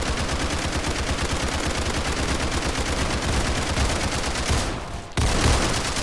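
Rapid, continuous gunfire in the online game Roblox Criminality, a dense run of automatic shots at steady loudness that breaks off briefly near the end before more shooting resumes.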